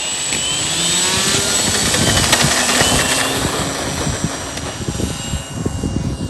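A 3D-printed RC PT-17 Stearman model plane flies with a loud, steady, high-pitched electric motor whine whose pitch shifts slightly as it passes close by outdoors.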